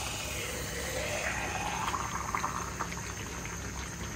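Three kilos of mutton braising in a large wok for an iftar meal, giving a steady close sizzle and bubbling hiss throughout, with faint scraping of stirring and no talk.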